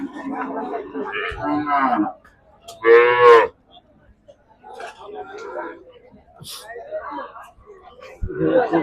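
Cattle at a busy cattle market, with one clear, loud moo standing out amid crowd chatter and people talking nearby.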